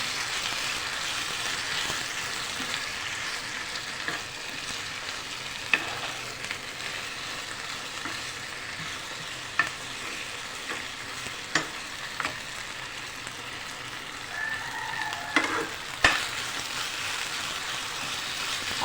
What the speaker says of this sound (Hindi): प्याज फ्राई हो गए, अब इसमें मैं आलू डाल दूँगी।